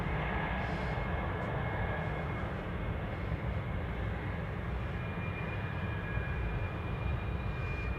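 A heavy jet departs Anchorage airport, its engines a steady, loud roar that holds for the full length with a broad rumbling low end and a thin high whine, no talk over it.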